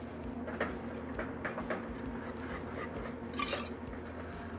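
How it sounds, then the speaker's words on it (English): A whisk scrapes and taps steadily in a pan of cheese sauce with Romano and Parmesan for mac and cheese, soft repeated clinks over a constant background hum. "Our Romano. Our Parmesan. And just keep whisking."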